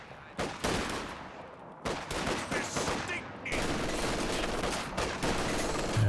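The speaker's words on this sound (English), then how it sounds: "MG42 getting some nice suppression in there" MG42 machine gun fire in Company of Heroes 2, with sustained rapid bursts of automatic fire and overlapping battle noise, loud and nearly continuous with brief gaps.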